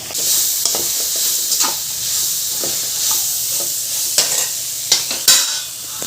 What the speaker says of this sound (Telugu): కొంచెం ఉప్పు కూడా వేసి ఇవి అయితే ఫ్రై కానివ్వాలి